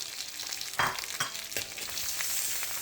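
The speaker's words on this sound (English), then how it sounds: "we're just gonna stir fry that garlic in to infuse those flavors" Garlic, a whole bulb's worth, stir-fried in a pan for a crab coconut red curry, giving a steady close hiss of frying broken by a few scraping stirs and clacks.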